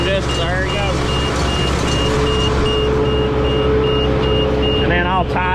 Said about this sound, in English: 2 little magnet sensors in there, and when they line up, it sets off a buzzer.